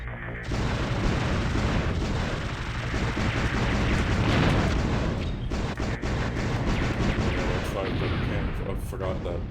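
Rapid machine gun fire from the PlayStation shoot-'em-up Einhander, a dense, loud, continuous burst of game gunfire and booming explosions lasting throughout, with brief shifts in intensity.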